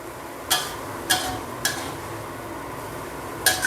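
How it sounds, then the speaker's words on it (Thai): Vegetables for sukiyaki are stir-fried in a pan without added water, with four crisp scraping clacks of a spatula at irregular intervals over a faint steady sizzle. "เดี๋ยวเราผัดไปสักครู่ ผักจะคายน้ำออกมาเองนะครับ"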